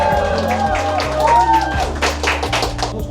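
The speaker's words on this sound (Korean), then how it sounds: "함성." Crowd cheering and clapping at a Super Cub moto-camping meetup, a loud burst of applause and shouts over steady music lasting a few seconds.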